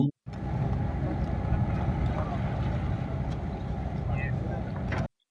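New water resources department inspection boat at the Mullaperiyar dam, engine droning steadily under wind noise for several seconds before cutting off.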